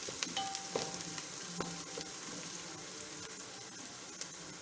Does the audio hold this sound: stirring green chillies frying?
yes